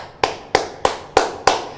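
Five sharp, evenly spaced claps ring out close by with a steady beat, each dying away quickly, and nobody speaks between them.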